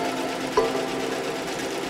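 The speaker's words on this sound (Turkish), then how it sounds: "Terzi tiyatroda tülbent dikiyor." A sewing machine stitches steadily, its even motor hum running close and continuous throughout with a brief small click near the middle, no voices heard.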